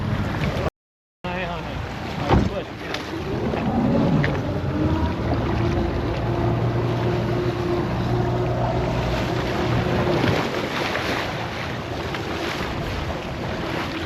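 Boat engine running steadily while the vessel reverses on a western rock lobster fishing trip, a sustained low drone under heavy wind and water noise, with a brief sharp knock early on.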